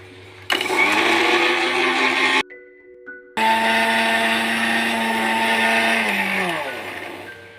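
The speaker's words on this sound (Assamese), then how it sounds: "তাৰপিছত ধুনীয়াকৈ মিক্সিত মাৰি পেলাই আপোনালোকে চাব।" An electric mixer grinder blending leaves into paste, running loud with a high whining motor hum for a couple of seconds, stopping briefly, then running again for several seconds before winding down.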